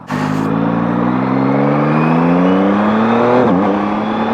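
A Yamaha MT-09 motorcycle pulls hard under acceleration, its engine note droning steadily upward and loud, with a brief dip near the end like a quick-shifter gear change.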